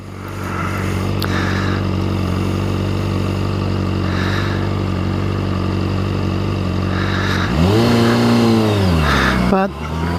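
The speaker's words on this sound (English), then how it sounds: "just initially you pull back on the throttle a little bit, and then it just, that's kind of a feature of the CBR" A Honda CBR motorcycle engine drones steadily while cruising, then revs up and down sharply under throttle near the end; someone talks over the engine noise throughout.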